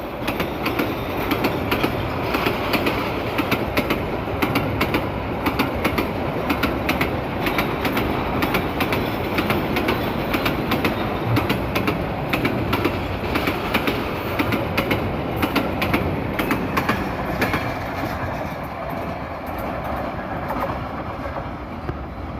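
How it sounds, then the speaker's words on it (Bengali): A container freight train carrying containers and oil wagons, hauled by a Hyundai 3000 series locomotive, speeds through Bhairab Bazar Junction in Bangladesh: a loud, close, continuous rumble with rapid rhythmic clickety-clack of wheels that eases slightly near the end. "দুরন্ত গতিতে ভৈরব বাজার জংশন ক্রস করে যাচ্ছে এই কন্টেনারবাহী ট্রেনটি"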